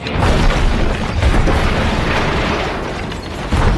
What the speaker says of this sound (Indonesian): langsung meledakkan tempat tersebut dengan bom yang sudah ia pasang sebelumnya